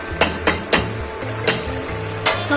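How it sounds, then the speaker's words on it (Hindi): A metal spoon stirs beef and cauliflower gosht in a pot, giving sharp scraping clanks at an irregular rhythm, roughly six strokes against the pot with a soft simmering noise between them. "अब चम्मच चला के इसको हम मिक्स करेंगे।"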